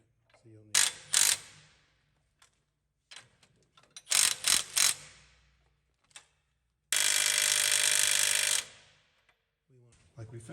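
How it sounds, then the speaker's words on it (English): A ratchet runs a nut onto threads during a truck steering repair, giving several separate bursts of close, rapid clicking and one longer continuous stretch, with short pauses between them. "run that in just a little bit so you have enough threads on the other side to put the nut on"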